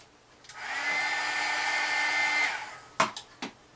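A heat tool blows steadily for about two seconds while drying stamped ink on a Valentine's Day post card, a strong whirring hiss with a tonal whine, followed by a few sharp clicks and knocks after it shuts off.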